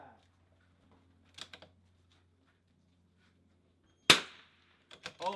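A rimfire .22 rifle cracks once loudly at a steel target, with faint ticks and clicks before it and a few soft follow-up taps after, otherwise quiet.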